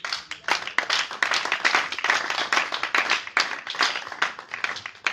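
A church congregation at a Sunday service claps rhythmically in unison, a dense, lively run of hand claps that keeps going without a break, close and fairly loud.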